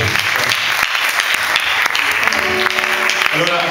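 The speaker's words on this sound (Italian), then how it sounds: "Un applauso." Applause from a live concert audience in Corcagnano, a loud dense burst of clapping with some voices and cheering mixed in and a faint sustained musical tone underneath.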